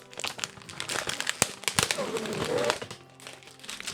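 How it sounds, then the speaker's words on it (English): Coca-Cola Oreo cookie package ripped open, crinkly plastic tearing and crackling in several bursts, close and fairly loud. "Time to rip it open."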